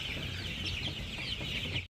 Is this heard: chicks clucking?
yes